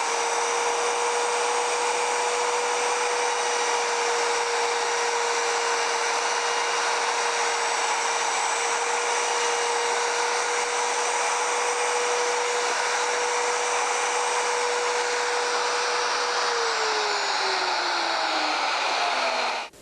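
A power tool routs wood for a neck angle jig with a loud, steady high whine that holds for a long stretch, then drops in pitch as the motor spins down near the end.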